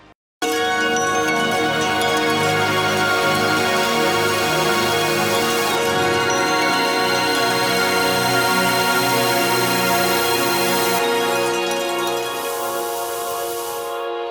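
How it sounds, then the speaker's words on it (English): A lush ambient synth pad built in Kontakt and Serum and washed in shimmer reverb, one dense sustained chord swelling in after a brief silence and holding bright and steady, with the top end shifting late on. "After all that, the main pad sounds like this."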